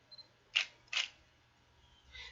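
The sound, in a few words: camera shutter firing at a slow shutter speed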